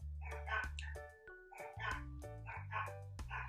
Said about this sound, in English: My dog loves to bark when I'm filming.